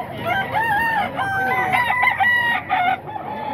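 A rooster at a chicken market in Bocaue, Bulacan lets out a loud, close, drawn-out crow, with other fowl clucking and market bustle filling the background.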